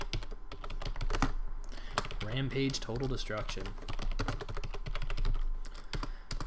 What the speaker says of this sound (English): I have a new keyboard. Fuck me, I cannot figure out typing on it.